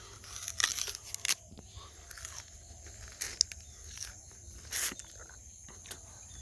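Someone bites and chews sugarcane on a cold morning walk in Bangladesh, giving several loud, crisp crunches and tearing bites close by, with crickets trilling faintly behind.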